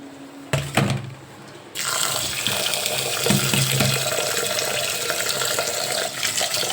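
Fresh leafy greens for a tomato bhaji being washed in water, with a steady stream running from a tap into a sink and splashing continuously for several seconds, with no talk.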